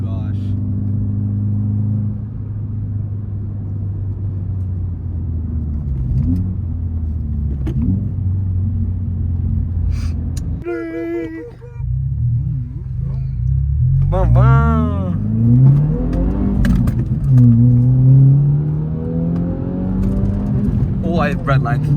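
A driver's-eye uphill touge run with a car engine droning steadily, then climbing in pitch as it revs and pulls through gears, loud and close inside the cabin, with someone talking over it.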